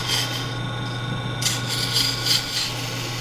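A plastic billiard ball is turned on a wood lathe, giving a steady scraping, rasping cut over a constant low motor hum, with small shifts in tone as the tool moves.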